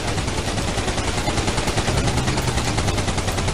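Rapid automatic gunfire in the 2003 video game Roadkill, a loud continuous burst of dense, clattering shots with no pause.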